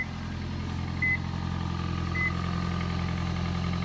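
A 2005 Toyota Prius hybrid engine just started, a low, steady hum running throughout with faint rumble, joined by two brief high beeps partway through.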